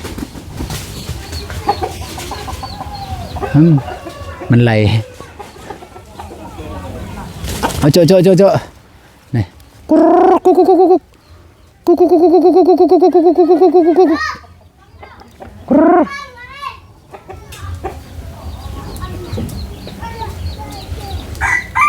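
Chickens at a rural backyard coop cluck, and a rooster crows in drawn-out, harmonic calls, with people talking loudly in between and over the birds.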